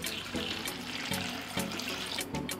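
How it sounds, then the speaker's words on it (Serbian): Tap water runs steadily and loudly into a cooking pot, a continuous close splashing rush with small surges, filling it for pasteurizing jars. "Napunila sam vodu i sada nosim na pasterizaciju."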